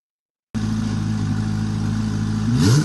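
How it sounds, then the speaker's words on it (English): A twin-turbo C8 Corvette Z06 on a dyno starts abruptly and holds a loud, steady engine drone, then climbs in a rising rev near the end. "Oh, listen to those turbos."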